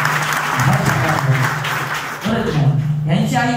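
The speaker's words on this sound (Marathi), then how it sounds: "टाळ्या वाजवा" An audience at a Marathi kirtan-style gathering claps loudly and continuously, a dense wash of applause that dips briefly near the middle before swelling again, with a sustained voice or drone running underneath.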